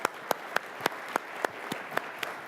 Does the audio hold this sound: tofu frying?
no